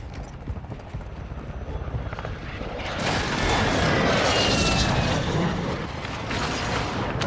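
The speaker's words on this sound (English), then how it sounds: "Hostile airstrike incoming!" Hostile airstrike aircraft in the Call of Duty DMZ video game, a loud sustained roar and rumble that swells midway and stays dense to the end, with clattering mechanical noise underneath.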